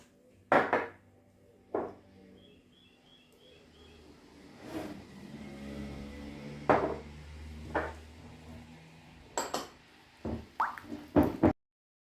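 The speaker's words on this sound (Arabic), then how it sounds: "دابا غادي نضيف هاد البيضه" An egg is cracked into creamy cookie dough for sablé biscuits in a mixing bowl. Sparse soft taps, plops and light clinks come close and quiet, with gaps of near silence between them.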